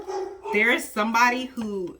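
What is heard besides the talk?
dog barking, lab and German Shepherd mix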